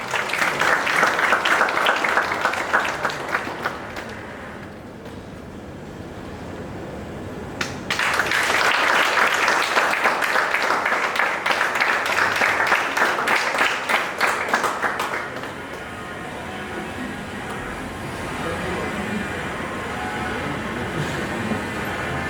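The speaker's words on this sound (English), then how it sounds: "Give a big round of applause for sir." Audience applause welcoming a speaker onto the stage at a student induction ceremony, rhythmic crowd clapping in two loud bursts separated by a quieter lull, fading into a softer hubbub at the end.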